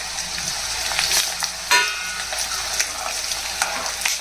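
Chana dal and dried red chillies frying in a pan for a tomato pickle, a steady close sizzle with soft stirring scrapes and a few brief louder spatters, no voices.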